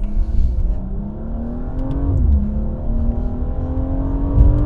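A Dinan S3-tuned 440 hp BMW M235i pulls hard in third gear with the rear wheels spinning, its engine note rising steadily, dipping briefly at a shift-like break, then climbing again, close and loud inside the cabin.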